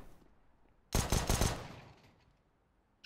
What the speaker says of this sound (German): Schöne Schüsse von Assa.